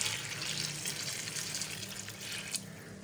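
A jug of water poured into a cooking pot for chicken aloo pulao already holding chillies, cloves and cumin, a steady splashing gush heard alone and fairly close.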